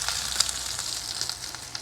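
Strip steak sears in a hot pan with a steady, close sizzle and crackle, a continuous hiss with small pops running through the whole moment.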